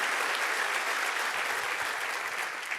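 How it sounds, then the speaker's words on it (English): An audience claps for a speaker at an HVAC sales keynote, producing a broad, even wash of applause that holds steady and fades slightly at the end. "Can we give him a round of applause?"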